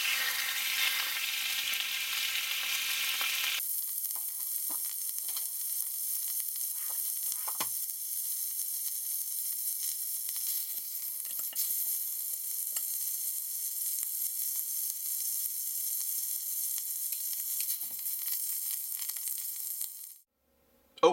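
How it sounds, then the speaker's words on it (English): Sandhill crane thighs sizzle steadily in butter in a pan, a continuous loud frying hiss that drops in intensity after a few seconds, then runs on until it cuts off abruptly near the end. "Okay, well we've got the thighs browned."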